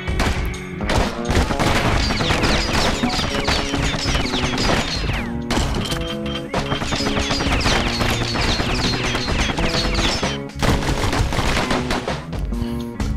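Dense, continuous gunfire from guns in the video game Bastion, rapid overlapping shots and impacts filling nearly the whole stretch at high loudness, with brief lulls near the one-second and ten-second marks.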